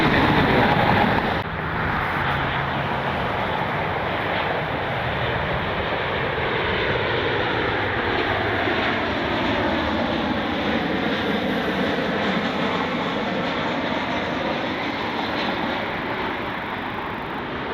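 Alaska Airlines passenger jet at Cleveland Hopkins airport at night, its engines giving a loud, steady roar that holds for the whole stretch with a slowly shifting whine, with no talking.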